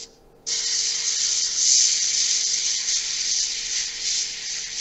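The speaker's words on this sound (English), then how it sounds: "Oh, look, we've got spray in action." An airbrush sprays model paint during a live model-kit session. The close, loud, steady hiss kicks in abruptly after a quiet moment and runs continuously to the end, with no talking.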